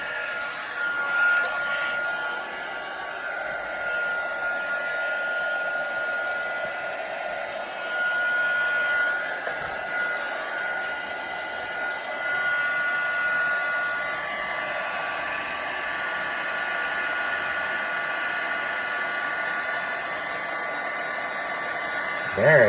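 Heat embossing tool blowing hot air for stamping and card crafting, a steady, loud whirring hiss held without a break, with faint voices only in the background.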